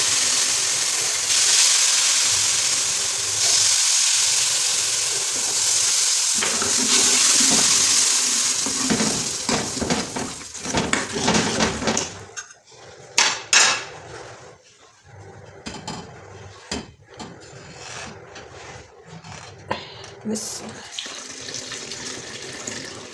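Strained jaggery syrup pours into semolina halva, a steady close hiss of liquid streaming for about ten seconds, then breaking into scattered splashes, drips and clinks of the strainer and pan.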